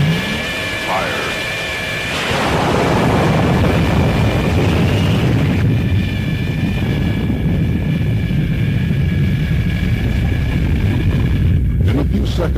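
A sustained, loud roar of spacecraft rocket engines firing at launch, with a sudden surge at ignition that holds as a steady, heavy rumble to the end, with faint talk.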